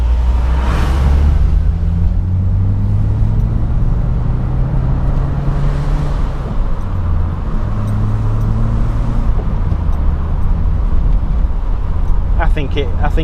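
A Peugeot 205 CTi hatchback pushed through S-bends, its engine droning loudly from inside the cabin with rising and falling revs over constant road rumble, someone talking over it.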